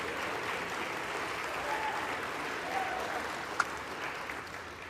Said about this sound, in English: There you go, another clap there.